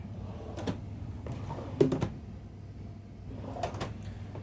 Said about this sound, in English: So a few more drawers. Again, all can be soft close.